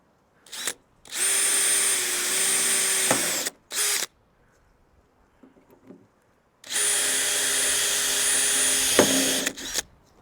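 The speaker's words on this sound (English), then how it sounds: "let's get some of these drilled." Holes being drilled through a campervan body to fit an awning rail: two long, loud, steady power-drill runs of several seconds each, close by, with brief tool handling clicks and a quiet gap between them.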